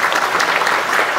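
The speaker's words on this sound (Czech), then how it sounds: "myslím si, že si zaslouží váš velký potlesk" Audience applause at a music festival of Tomášek and Novák music, steady dense clapping from a large crowd filling the whole moment, loud and continuous.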